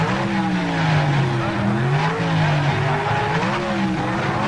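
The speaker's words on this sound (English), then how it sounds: "Leaving right on the green, the Chevy Camaro building up a lead over the hard-charging Corvette of Larry Kopp" A Chevy Camaro and a Corvette launch side by side at the 1978 NHRA Sportsnationals drag race. Loud, close engine roar carries rising revs and tire squeal steadily through the launch.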